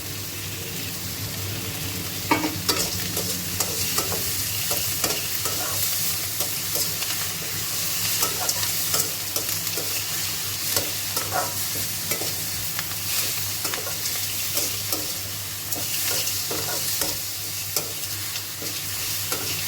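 Steady loud sizzling and crackling of curry leaves frying in hot oil for coconut chutney tempering, with occasional stirring clinks, continuous throughout with no talking.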